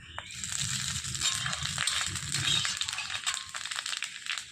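Panch phoron spices crackling in hot oil while cooking spinach, a dense steady sizzle with quick irregular pops and spits, close and fairly loud throughout with no talking.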